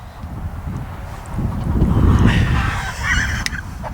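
Agitated chickens squawk and honk in ragged bursts near a chicken coop over steady wind rumble outdoors, growing louder toward the middle.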